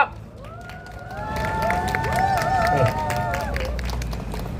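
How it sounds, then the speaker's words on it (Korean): Crowd clapping and cheering at a Korean disability-rights rally marking the 45th Day for the Abolition of Disability Discrimination, steady and moderately loud throughout, with raised voices and whoops mixed into the applause. "큰 박수 한번 부탁드립니다."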